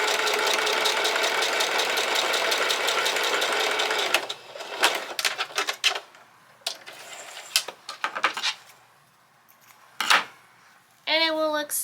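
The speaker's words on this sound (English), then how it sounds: "I'm going to sew very close to this edge of the fabric" A Singer Heavy Duty sewing machine stitching binding over a fabric seam edge, running in a loud rapid steady chatter for about four seconds, then short bursts and handling clicks.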